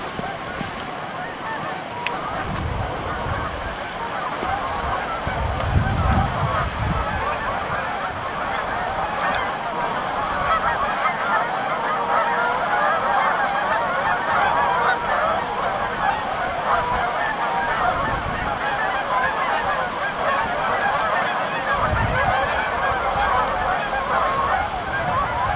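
A late-season snow goose honks repeatedly at a wilderness park near rapids, its calls steady and fairly close over constant rushing water and outdoor background noise.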